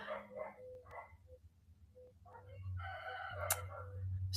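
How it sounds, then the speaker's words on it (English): Roosters crow in repeated drawn-out calls, fairly faint and somewhat distant, with a dog barking in between and a low steady hum underneath. "you guys can only hear the roosters"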